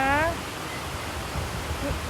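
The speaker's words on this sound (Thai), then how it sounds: "วันนี้วิก็มาที่น้ำตกนะคะ" Waterfall at Coo in Belgium, a steady broadband rush of falling water heard from nearby, with a brief voice at the start and faint talk later in the clip.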